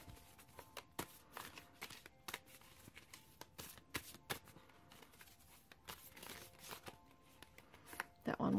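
Rumi oracle cards shuffled by hand, a faint, quiet run of soft riffling and slapping card sounds with irregular rhythm, close to the mic.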